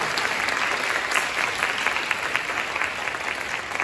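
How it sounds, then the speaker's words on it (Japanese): Steady applause from a concert audience after a brass ensemble's set at a joint Christmas concert, dense and even throughout without any talking. "もう一度盛大な拍手をお送りください"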